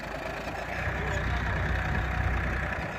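A Massey 241 tractor pulling a 2MB manual reversible plough through black soil, its engine labouring under heavy load with a steady, loud, close drone that swells slightly midway and holds without a break.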